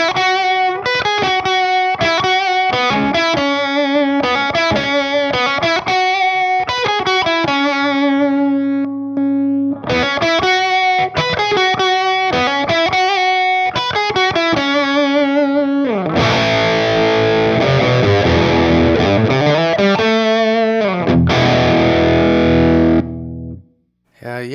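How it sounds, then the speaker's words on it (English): Electric guitar through a germanium treble booster pushing a clean amp into distortion, playing loud, continuous chord riffs with a brief pause near ten seconds and a thicker, harmonically rich section toward the end. "Just turning a clean amp into something dirty."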